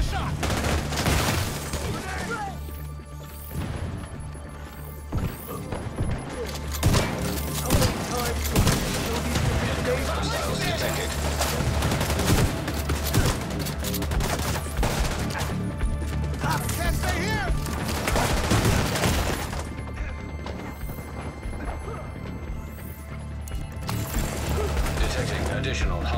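Video game gunfire with rapid bursts and mechanical clatter runs through a busy battle mix, dense and fairly loud, with radio-style voice callouts over it.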